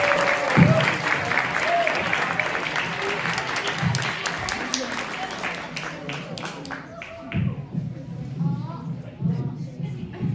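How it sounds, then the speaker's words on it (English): An audience claps for a 7-year-old stand-up comedian, Carmelo Rios, a busy round of applause mixed with talk that thins and fades after about seven seconds as voices take over. "Let's give him a round of applause"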